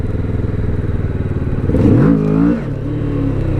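A Kawasaki Vulcan S 650 motorcycle revs in first gear: a close, rumbling idle climbs sharply to a higher pitch for about a second, then drops back to a steady idle.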